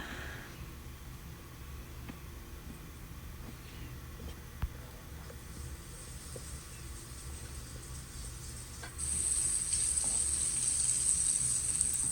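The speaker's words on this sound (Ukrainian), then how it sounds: "І ось обсмажую сало на пательні." Salo (pork fat) frying in a pan, a steady close sizzle and crackle with soft stirring, the hiss growing louder and brighter toward the end.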